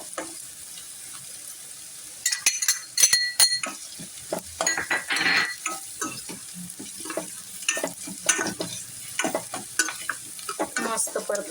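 Chopped onion and finely cut garlic sizzle and fry in a pan for a kabuli chana pulao, with repeated stirring scrapes and light metallic clinks from the spoon against the pan, close and steady.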